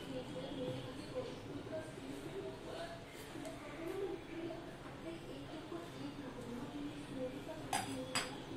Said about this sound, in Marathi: आता एखाद्या ग्लासनी, वाटीनी किंवा एखाद्या झाकणाने या पुऱ्या आपण तयार करून घ्यायच्या आहेत